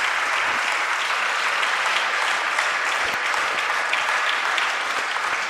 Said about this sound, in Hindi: ये तालियों की गड़गड़ाहट ही बता रही है कि ये लेक्चर बच्चों को कितना पसंद आया है।